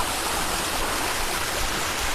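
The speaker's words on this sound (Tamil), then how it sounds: "நல்லா தண்ணி வருது." Steady, loud rush of water flowing in a stream, a continuous broadband roar without breaks, nearby and unaccompanied by voices.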